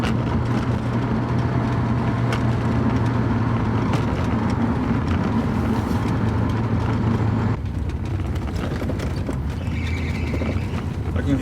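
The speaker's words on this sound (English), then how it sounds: "I can hear the fan belt just slipping slightly" A Porsche 928 V8 idles steadily up close with a continuous droning hum, its fan belt slipping slightly and adding a faint high squeal toward the end.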